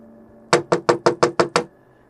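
Seven sharp, evenly spaced knocks on a bathroom door ring out loud and close in a quick steady rhythm, followed by quiet.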